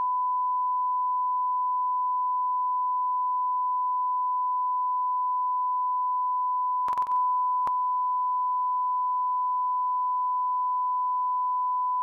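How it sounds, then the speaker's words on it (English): A long steady censor beep, a single pure tone held almost the whole time at moderate level, with a brief burst of noise and a click near the end and no voices. "That was the longest deprogram beep in history"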